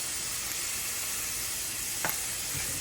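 Plain white onions sizzling in a hot pan as okra and tomatoes are cooked, a dense, even hiss heard close up and unbroken, with one brief soft knock partway through.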